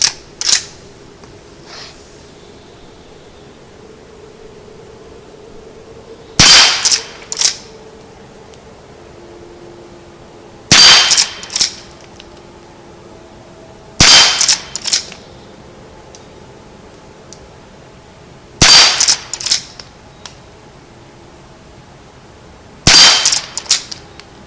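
Five sharp, loud .22 shots from a Henry lever-action carbine at an outdoor target, spaced several seconds apart, each followed by the quick metallic clack of the lever cycling, over a quiet background.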